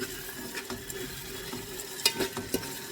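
Prawns are stirred in ghee in a pan, with soft scraping and light sizzling in a quiet kitchen, a few louder utensil clinks near the end.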